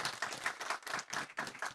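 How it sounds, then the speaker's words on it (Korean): Audience clapping at a Korean photo concert on the Provisional Government, rhythmic bursts of applause at moderate level with no voices over it. "여러분 박수 한번 부탁드립니다"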